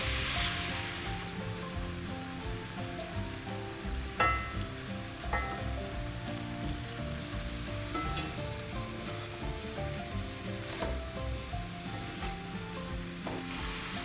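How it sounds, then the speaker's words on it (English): Sausage crumbles brown in a pan for southern biscuits and gravy, hissing in a steady, continuous sizzle with occasional sharper spatters and stirring clicks, up close and alone. "We're gonna get it broken down into kind of medium small crumbles and just make sure it's browned all the way through."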